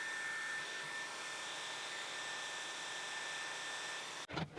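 Hair dryer blowing steadily on a watercolor painting, a loud continuous whooshing roar with a faint whine that holds nearly unchanged, then cuts off abruptly near the end.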